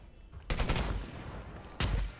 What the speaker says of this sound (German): Achtung. Vorsicht, Flashbang!